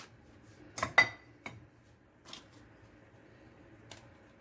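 A spoon clinks sharply against a bowl a few times while cocoa is stirred into a spoon-measured cake batter, with scattered single taps and soft scraping between.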